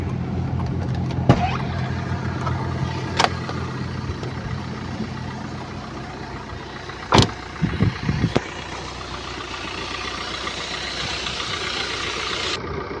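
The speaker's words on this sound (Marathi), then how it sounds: "गाडीचा इंजिनचा वगैरे आवाज ऐकू शकता।" Diesel engine of a used Maruti Swift Dzire idling with the bonnet open, a steady close rumble with a few sharp clicks and knocks over it and no talking.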